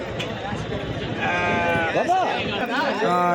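Sheep bleat loudly and repeatedly close by at a weekly sheep and goat market in Kothacheruvu, several overlapping wavering cries, amid a crowd murmuring and talking in the background.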